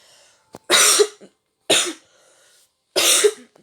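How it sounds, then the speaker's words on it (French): A sick person coughs three times in close succession, each a loud, harsh burst close to the microphone, with short silent gaps between them. "Désolé si je tousse, les gars, je suis malade encore."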